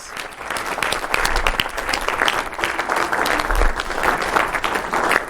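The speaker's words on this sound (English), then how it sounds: "Let's give her a round of applause." A church congregation claps for Faye in sustained, even applause with some sharper individual claps near the front, continuing without a break.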